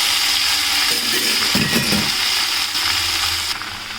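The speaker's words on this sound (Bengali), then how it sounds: "প্রথমে একটু নেড়ে চেড়ে ভেজে নেব" Fourteen leafy greens hiss and sizzle loudly in hot oil tempered with dried and green chillies while being stirred, a steady frying crackle with a brief rattle of the stirring spoon partway through.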